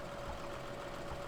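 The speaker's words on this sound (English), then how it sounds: "It actually increases the RPMs of the tractor." Steady, faint tractor engine drone from Farming Simulator 2013 game, with a constant hum and mid-range tone holding evenly throughout, no talking.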